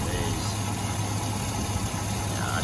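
An old truck engine idles roughly close by, a steady low rumble with a faint uneven pulse throughout, and voices are heard faintly over it.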